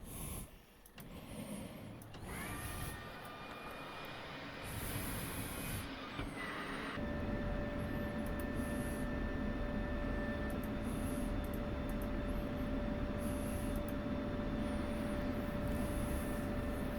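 A jet aircraft in the DCS flight simulator game taxis out toward a weapons range, its engine whine holding a steady tone and building into a continuous rumbling roar, with no talking.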